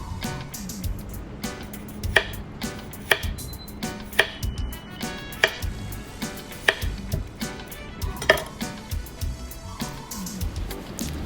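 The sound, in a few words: knife slicing tomato and red onion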